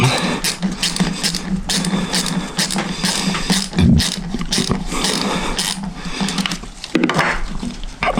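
A jet is tightened into the carburetor of a Yamaha YZ400F, giving close, irregular metallic ratcheting clicks and small tool knocks that continue steadily, with a louder clunk near the middle and another toward the end.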